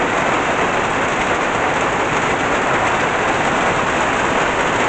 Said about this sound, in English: Haven't seen rain like this since last December, January